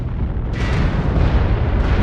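Missile impact explosion in the MechWarrior Online video game, a loud sustained rumbling boom that swells after a moment and rolls on for about two seconds with a dense low-end roar.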